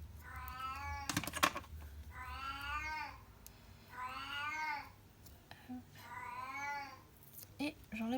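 An elderly cat meows loudly four times in drawn-out, wavering cries, close by, with brief rustling and clicks between calls in a quiet indoor room during a paper-craft session.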